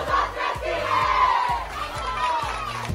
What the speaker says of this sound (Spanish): Desde los vestidores gritaban juntas.